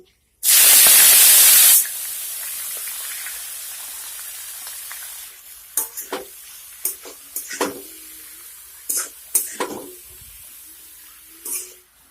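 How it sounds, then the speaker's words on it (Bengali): Spinach dropped into hot oil with panch phoron and blackened dried chilli, setting off a loud burst of spitting sizzle that fades to a quieter fry under a run of sharp utensil clanks and stirring knocks. "শুকনা লঙ্কাটা কালো হয়ে গেলে এর মধ্যে দিয়ে দেব পালং শাক"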